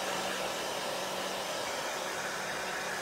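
A hair dryer blows steadily on a Chalk Couture craft project, a constant close whoosh of air with no pauses and no talk.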